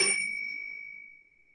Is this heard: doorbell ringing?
yes